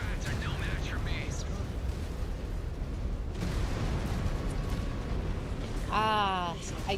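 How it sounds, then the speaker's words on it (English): Rapid cannon fire from LV5X cannons on a mech in the video game Mechwarrior 5 Clans, a dense, continuous barrage of booming shots and crackling impacts, loud throughout, under a voice talking. "Ah, I do love the sound of the LV5X cannons."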